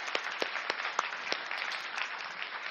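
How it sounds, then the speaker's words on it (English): Continuous applause from a conference audience at the close of a session honouring a speaker at a dental meeting in Seoul, dense steady clapping with a few sharper individual claps standing out, no voices. "a next round of applause to Dr."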